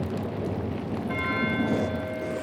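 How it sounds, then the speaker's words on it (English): A monastery bell rings out in the Pentiment video game, a sustained metallic tone entering partway through and sounding steadily over a dense, muffled background. "Why is Matthew ringing the bell?"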